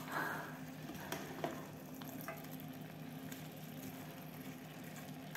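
Vegetables fry in a pan with a steady, soft sizzle and occasional stirring clicks and scrapes, fairly quiet and without talking.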